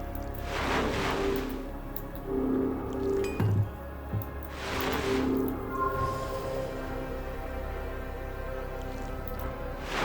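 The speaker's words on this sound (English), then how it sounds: "Except when I take a sip of water at the wrong time." Someone takes a sip of water close to the microphone, giving two wet, squishy slurping bursts a few seconds apart over a steady humming background with faint tonal notes.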